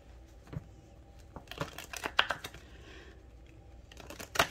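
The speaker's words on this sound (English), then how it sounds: "this deck is very hard to shuffle" A deck of tarot cards being shuffled by hand, giving scattered crisp papery riffles and taps with a louder flurry near the end, close and fairly quiet, with no talking.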